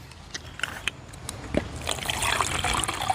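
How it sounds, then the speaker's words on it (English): Water trickles into a cup of drink powder from a British military MRE, starting as scattered drips and building into a steady pour toward the end. "Just add some water."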